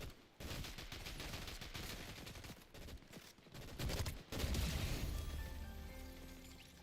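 Rapid bursts of gunfire from Fortnite fill the scene, dense overlapping shots and automatic volleys with brief pauses, loud and close throughout with no talking.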